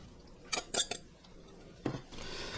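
A utensil clinks and scrapes against a bowl while shredded Monterey Jack, cheddar and mozzarella are mixed in. A quick cluster of metallic taps is followed by one more scrape over a quiet background, with no talking.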